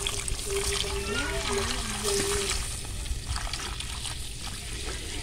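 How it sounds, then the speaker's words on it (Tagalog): Coconut milk pours and trickles steadily into a pot of boiling water over a constant background hiss, with a faint tonal whine and murmuring voices. "Lagay na natin yung coconut milk"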